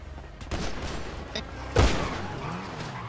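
Gunfire in GTA V during a gang team fight, a few muffled shots and bursts in a dense, noisy mix with a sharper, louder blast near the end, while players talk over it.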